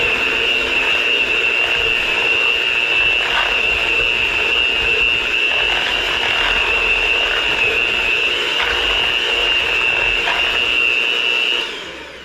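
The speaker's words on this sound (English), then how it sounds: "we're gonna just give this a little bit of a mix. I'm using your mixer." An electric mixer whirs steadily through sweet potatoes and butter for a pie filling, a loud continuous motor whine with faint clicking beneath it that winds down at the very end.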